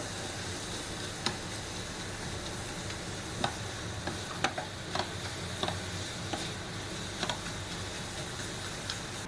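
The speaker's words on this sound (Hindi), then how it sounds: "गुड़ और नारियल को हमें बिल्कुल धीमी आंच पर लगातार चलाते हुए भून लेना है" Jaggery and grated coconut roasting in a pan on low flame for ukadiche modak filling, a soft constant sizzle with scattered sharp ticks from a spoon scraping and stirring, no talking.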